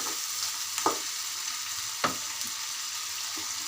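Onion and garlic paste fries in a pan for a taro stolon dish with dried hilsa, a steady soft sizzle broken by a few sharp stirring scrapes of a spatula, no voices.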